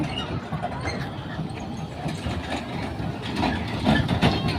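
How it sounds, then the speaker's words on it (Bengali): A small train rolls into a city park amid outdoor background noise, a low rumbling, clattering run with a faint engine hum, moderately distant and steady. "যে এখানে একটা ট্রেন আসতেছে"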